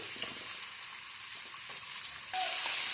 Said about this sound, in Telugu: ఆయిల్ హీట్ అయిన తర్వాత ఇందులోకి కట్ చేసి పెట్టుకున్న దొండకాయ ముక్కలు, అలాగే పచ్చిమిర్చిని కూడా యాడ్ చేసుకుందాము.